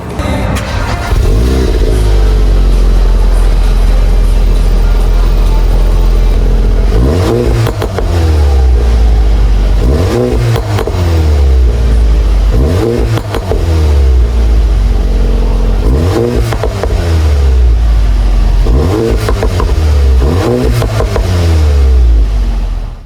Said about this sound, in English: So I'm going to place my phone at the back of this vehicle and give you guys a proper cold start